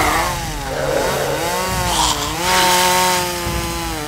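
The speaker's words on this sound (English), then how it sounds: "Save your ammo. I got a chainsaw." A chainsaw runs loud and close, its engine whining up and down in pitch as it revs.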